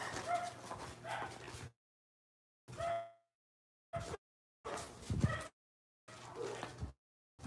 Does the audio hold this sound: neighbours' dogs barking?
yes